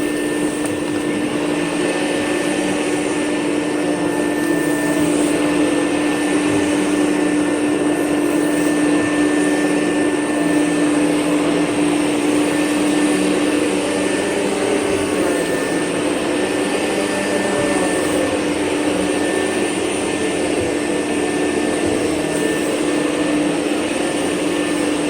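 A Rainbow E2 Platinum canister vacuum with a power nozzle drones steadily and loudly during whole-house carpet cleaning, a continuous motor whine with a constant pitch and no breaks.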